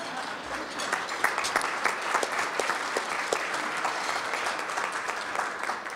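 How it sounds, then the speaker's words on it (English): Sustained audience applause at a business seminar keynote, a large crowd clapping steadily and evenly for six seconds with a few louder individual claps. "please do not hold your applause for these individuals and these companies"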